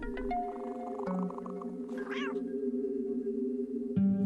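A cat meows clearly and close by, with a sharp whining call in the middle over a steady droning background and brief lower tones around it.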